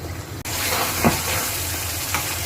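Pieces of snakehead fish sauté in spices in a hot pan, giving a loud, steady, close sizzle with a brief dip early on.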